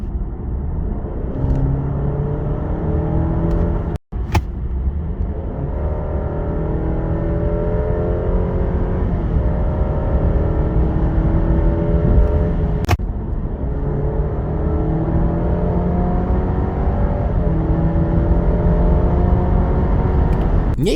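An Alfa Romeo Giulia Tributo Italiano with the 2.0 turbo engine, 280 hp and Q4 all-wheel drive, pulls hard from about 3000 rpm through several rising gear sweeps of a ZF automatic. Heard from inside the cabin, with sharp clicks at each shift.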